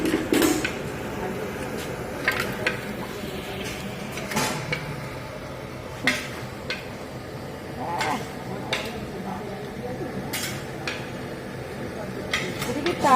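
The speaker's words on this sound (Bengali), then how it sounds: "আলুটা দিচ্ছি, আমার কষছে।" Potatoes being stirred in a pan, heard as clinking and scraping of a utensil against metal in irregular taps, with someone talking over a low background hum.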